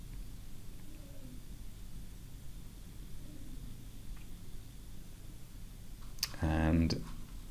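A computer mouse click lands near the end, a short sharp burst standing out against steady low background hiss.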